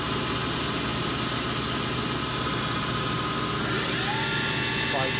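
Kitamura Mycenter 2X vertical machining center with its spindle running at 1,000 RPM, a steady, dense mechanical whine and hum that is constant and close throughout.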